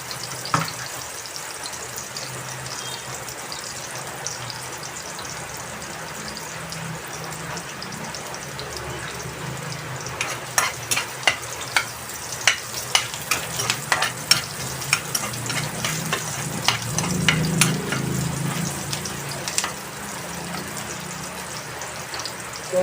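Mushrooms sautéing in a pan with onion and garlic, a steady sizzle joined midway by clicking stirs and scrapes as the frying grows louder, with no talk.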